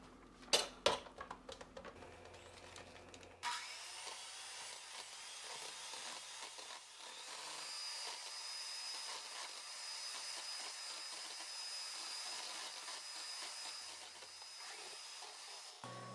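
Electric mixer beating a tin of evaporated milk for a Peruvian torta helada, a steady whirring drone running throughout after a few clattering knocks at the start, no voices.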